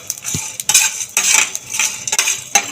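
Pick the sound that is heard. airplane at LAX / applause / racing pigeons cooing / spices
spices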